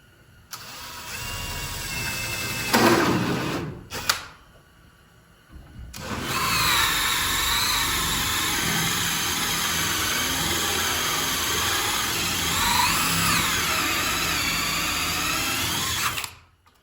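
A power drill whines loudly, bores through thick wood for a few seconds for a doorknob installation, pauses briefly, then runs again in a long steady grinding stretch.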